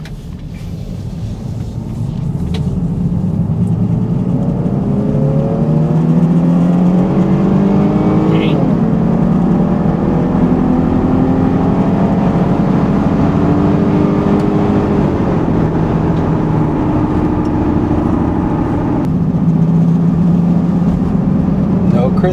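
A Jeep Grand Cherokee with a swapped engine runs on a test drive, its engine note rising and falling through gear changes in a steady, loud in-cabin drone.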